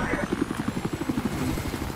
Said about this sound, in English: Nibiru's calling my helicopter and I take it.